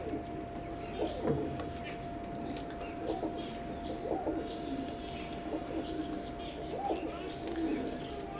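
Oman bloodline teddy pigeons cooing in soft, repeated low phrases a few seconds apart, moderately close over a steady background hum with faint chirps.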